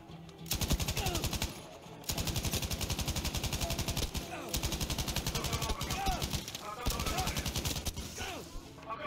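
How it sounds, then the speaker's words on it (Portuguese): Bursts of rapid machine gun fire in the Battlefield 5 video game, sustained rattling volleys broken by short pauses over nine seconds, loud and close, with faint game voices underneath. "Deixa eu ir aqui nessa metralhadora."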